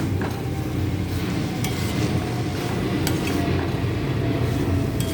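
Fried raw banana pieces being stirred in a pan for a wedding-style valakkai varuval, a steady close scrape and clatter of the utensil against the pan with small clinks, continuous and fairly loud throughout.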